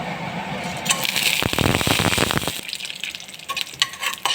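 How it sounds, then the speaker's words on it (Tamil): Mustard seeds spluttering in hot oil for a bean and carrot stir-fry, a quick cluster of crackling pops over a steady sizzle. "எண்ணெய் காய்ந்ததும் கடுகு பொரிந்ததும்"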